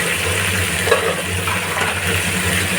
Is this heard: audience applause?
no